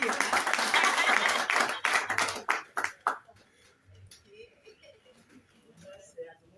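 Audience clapping at a UPC Manidem party gathering in Cameroon marking International Day of the African Woman: dense, loud applause for about three seconds, then fading into scattered claps as a voice starts talking.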